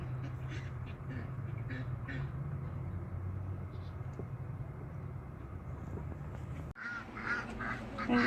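A pet chicken clucks and calls repeatedly near an RV's front door, a run of short bursts with brief pauses, fairly close and clear, with a louder flurry of calls near the end.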